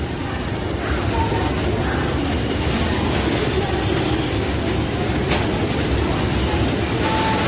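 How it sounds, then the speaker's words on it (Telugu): A MEMU train pulls in at platform 3 at Secunderabad Junction. The low rumble of rail wheels and engine is loud and steady throughout, with faint whines and a brief sharp sound mixed into the station noise. "ప్లాట్ఫామ్ నెంబర్ 3 మీదకి వస్తుంది ఇప్పుడే మెమో ట్రైన్"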